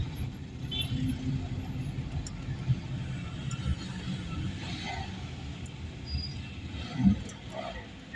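Inside a car during a driving lesson in slow city traffic, a faint, steady engine and road rumble drones throughout, with occasional soft voices and small interior knocks.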